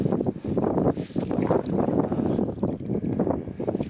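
Wind buffets the microphone during a solo canoe trip on a lake in Algonquin Park in cold, snowy conditions, a loud continuous gusty rumble with no speech.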